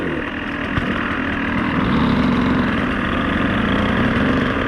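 Dirt bike engine on a hard enduro track, a loud continuous buzzing drone held at steady revs, with no talk over it.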